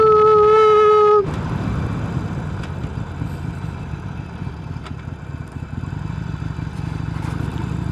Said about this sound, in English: that's how you engine brake